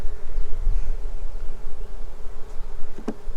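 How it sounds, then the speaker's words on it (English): A thick drone of agitated bees from an opened hive hums continuously up close, loud and unbroken, with a brief sharp tick near the end. "They're mad now. Hear them buzzing."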